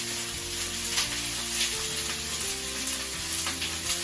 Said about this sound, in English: I'll start off with the asparagus. That nice sizzle right there is what you want to hear